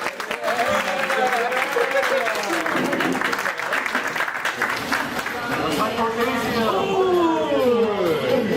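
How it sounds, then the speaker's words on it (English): Applause from an audience at a collegiate esports awards ceremony welcoming a coach to the front, a sustained burst of clapping mixed with cheering and crowd chatter. "With a round of applause, can we welcome Coach Bowles to the front to help present our Valorant Awards"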